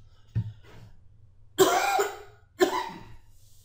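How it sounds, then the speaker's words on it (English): A faint throat clear followed by two loud, harsh coughs from one person, spaced about a second apart and close to the microphone, with no speech. "I feel a cough coming"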